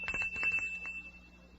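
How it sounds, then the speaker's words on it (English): A bell on a cereal flavor-testing machine in a radio drama rings in a few quick, bright dings, then fades into a thin ringing tone with no voices over it. "The better it tastes, the louder it'll ring the bell."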